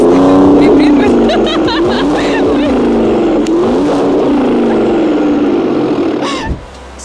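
A chipped engine in a Ford Raptor revs hard, a loud rumbling throttle blip rising and falling in repeated surges before dropping off, with a voice briefly heard over it.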